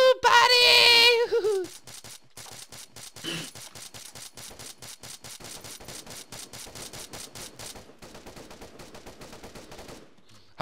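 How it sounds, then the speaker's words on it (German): Rapid automatic gunfire in the Arma 3 video game, a long run of evenly spaced shots after a loud opening burst, with a wailing cry over the first second. "ich habe auch nur in die Luft geschossen"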